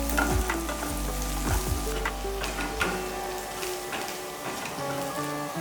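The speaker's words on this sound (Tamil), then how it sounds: "ரெண்டு பல்லு பூண்டை இந்த எண்ணெயிலேயே கொஞ்சமாக தட்டிட்டு போட்டுக்கலாம்" Onions and crushed garlic sizzle in hot oil for a sambar, a loud, continuous, close crackle with occasional stirring scrapes and clinks.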